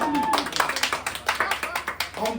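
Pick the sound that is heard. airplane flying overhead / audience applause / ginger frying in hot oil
audience applause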